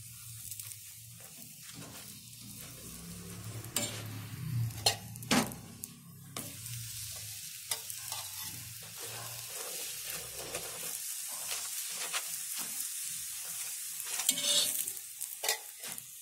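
A paratha sizzling in refined oil on a hot griddle, with crackling fry noise and sharp scraping or pressing sounds from a spatula scattered through, close and fairly quiet, with no talking.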